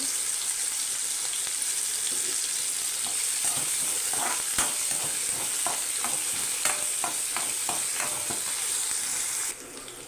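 Green chillies and curry leaves, added after onions, fry in a pan with a loud continuous sizzle and a run of crisp spattering pops and stirring scrapes, heard up close with no voices.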